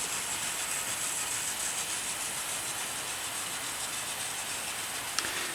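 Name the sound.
model 0-6-0 locomotives Collett and Drummond 700 running on track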